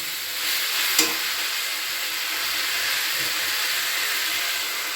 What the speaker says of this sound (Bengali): পাঁচ মিনিটের মতো আমি ভাজা ভাজা করে নিয়েছি